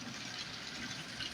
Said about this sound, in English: what we're doing right now is getting our hot water out of the steel.